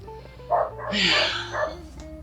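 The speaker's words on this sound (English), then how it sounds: "My dog will not be quiet today, so I left him inside for filming." A dog barks indoors, giving a few separate muffled barks and yips in quick succession. They sound near but slightly closed off and are heard over a low steady background hum.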